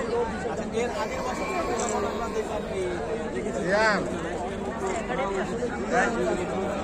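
Busy crowd in a Dhaka setting, a steady babble of many voices chattering at moderate distance, with nearer speech rising above it now and then.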